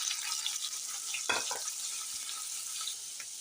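Paneer fries in a little hot oil on a tawa with a steady bright sizzle, broken by a brief louder crackle and scrape as the pieces are moved.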